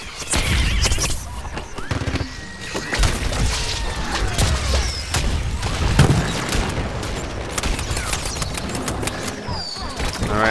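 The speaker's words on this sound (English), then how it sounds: "Who is shooting at me?" Gunfire in the shooter Plants vs. Zombies: Garden Warfare, a steady crackle of rapid shots and pops with occasional booms, ongoing under a voice speaking.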